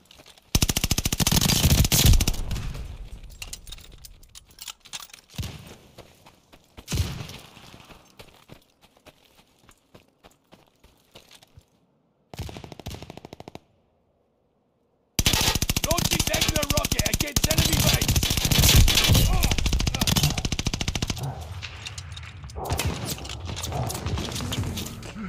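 Machine gun fire in the video game Arms Race, with loud dense rapid bursts at the start and again in a long sustained stretch near the end, broken by quieter gaps and brief silence, with voices shouting at moments.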